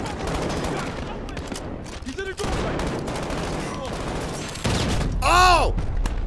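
Gunfire in the Modern Warfare video game, played on an RTX 2080 Ti at max settings, comes as rapid bursts of shots with a loud crack-and-ring near the end. A player's voice is heard over the in-game noise.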